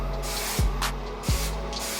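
Dry Bar Money Maker hairspray misted onto hair in two short, soft bursts, close and hissing, with quiet rubbing between them.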